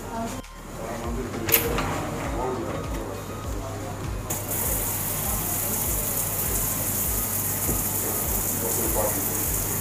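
Water gushing steadily from a pressure booster pump demonstration, a continuous broadband spray with a low rhythmic pulsing hum of the pump running throughout, fairly loud and close.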